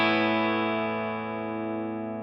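Squier Stratocaster electric guitar played through the bridge pickup, a single bright, distorted chord ringing out and sustaining steadily, close and alone.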